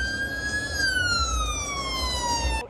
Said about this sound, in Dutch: Ik zag ook een ambulance langs rijden.